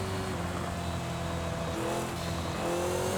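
A Porsche 918 Spyder driven in the racing game Forza Horizon, its engine droning steadily at cruising speed with a slight shift in pitch partway through and no voices over it.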